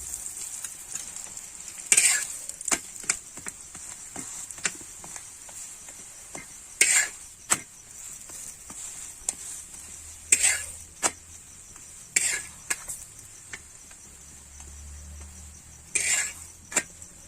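A spatula scrapes and clinks repeatedly in a pan as oil goes in for frying a spinach masala paratha, sharp irregular strikes over a faint sizzle, close and fairly quiet.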